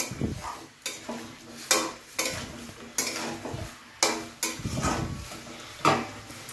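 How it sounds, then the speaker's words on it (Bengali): Jackfruit and prawn curry stirred in a pan, with repeated loud scraping strokes of a spoon against the pan at a steady rhythm over a soft sizzle, close and without voices. "এখানটা সামান্য পরিমাণে একটু জল দেবো, দিয়ে এটাকে একটু নাড়াচাড়া করে ঢাকনা চাপা দিয়ে দেবো।"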